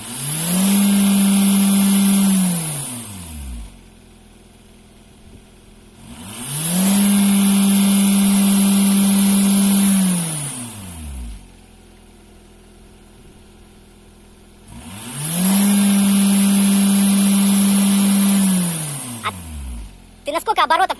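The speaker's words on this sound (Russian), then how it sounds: "Давай, погазуй!" A 2.0 TDCi diesel in a Ford Mondeo Mk4 with a DPF problem revs up three times, each rise held for a few seconds at a loud, steady roar before dropping back to idle.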